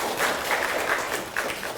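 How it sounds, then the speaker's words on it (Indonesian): Brief burst of clapping for schoolchildren at a school event in Indonesia, a dense patter of many hands, moderately loud and steady. "tepuk tangan dulu untuk anak-anak"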